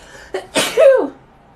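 A single close sneeze sounds in a quiet room, with a short intake followed by a sharp, breathy burst that fades within about a second.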